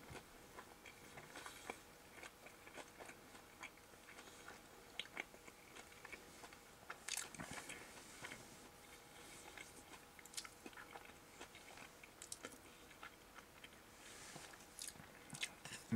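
Close, quiet chewing and crunching of a whole-garlic meat pizza, with steady moist bites and a few sharper crunches spread across the whole stretch, no talking.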